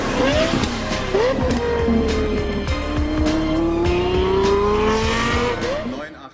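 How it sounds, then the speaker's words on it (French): A Lexus LFA V10 engine at the 2010 Geneva Motor Show gives loud, continuous sound with rising and falling revs, sweeping tones and sharp bursts of throttle that carry throughout. "cette magnifique œuvre d'art sur roue, dont le V10 émet de surcroît une sonorité dont on ne se lasse pas"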